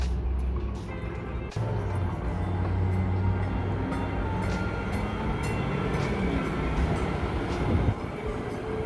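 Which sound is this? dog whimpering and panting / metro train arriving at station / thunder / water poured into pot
metro train arriving at station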